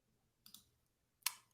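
A mouse clicks on an analytics menu with two quick, faint, close clicks about a second apart in an otherwise quiet room.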